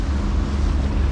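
Boat engines running at full throttle through a lagoon pass at a Tuamotu atoll, a steady, loud, dense roar with wind and water noise and no talk.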